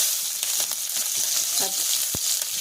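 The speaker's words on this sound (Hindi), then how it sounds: "तेल हो गया है, इसमें मैं सारे लहसुन को पहले" Garlic frying in hot oil for a Bengali-style Mughlai paratha, a steady close sizzle with a few stirring scrapes and a sharp clink near the end, no talking.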